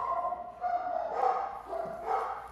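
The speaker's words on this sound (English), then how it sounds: "your puppies are alerting you" Dogs bark and yip nearby in a few short bursts over roughly two and a half seconds, with whimpering tones between the barks.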